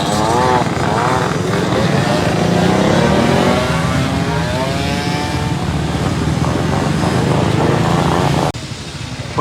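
Motorcycle engines rumble and rev at a summer season-opening bike event in Jurbarkas, a loud, continuous, close drone with shifting pitch that cuts off abruptly near the end.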